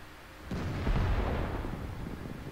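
Artillery shells land in a World of Tanks match as a deep, rumbling boom that starts suddenly and rolls on with a low, sustained roar, heard fairly close with no talk.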